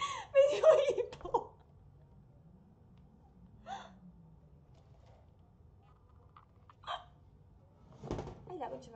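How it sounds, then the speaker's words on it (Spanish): Hiccups while playing Bendy and the Ink Machine: a voiced gasp and giggle at the start, then a few separate short, sharp hiccup bursts spaced several seconds apart with quiet gaps between. "Me dio hipo."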